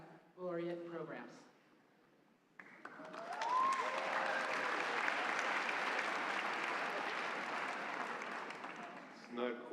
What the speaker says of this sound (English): Not quite the same on the applause meter as Byron.